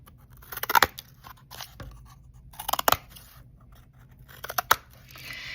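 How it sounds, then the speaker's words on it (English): Scissors snip off the edges of paper in three short bursts of quick cuts, close and crisp, separated by quiet pauses. "I'm going to take my scissors and I'm going to cut off these edges"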